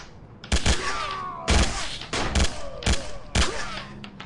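Video game gunfire in Sierra 7: a handful of loud, punchy shots spaced about a second apart, each with a booming low thump and a ringing tail.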